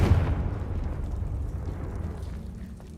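A Confringo explosion spell in the Hogwarts Legacy video game goes off as a single deep, loud blast that rolls and fades over a few seconds.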